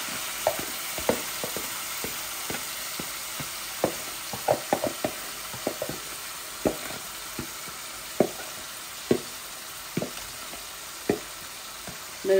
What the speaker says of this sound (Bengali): একটু তেল বেশি গরম হয়ে গেছিল বলে এইরকম করছে